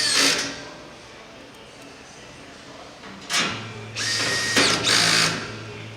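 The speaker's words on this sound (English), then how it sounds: "On the low torque setting again, the 2 self-tapper screws in line with the posts go through the bottom." A power drill on its low torque setting drives self-tapping screws through the bottom of a RolaCase end panel, giving a few short, close whirring bursts separated by quiet pauses.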